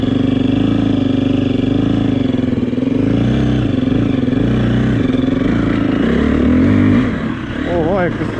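A new KTM EXC-F 350 four-stroke dirt bike engine runs loud and close, idling with uneven throttle blips, then a sharp rising rev near the end, with voices talking over it.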